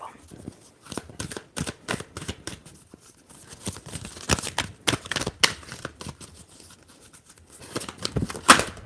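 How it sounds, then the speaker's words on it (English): Rapid crisp riffling of tarot cards being shuffled, in repeated bursts with brief pauses between them, close up and fairly quiet. "Okay, let's shuffle."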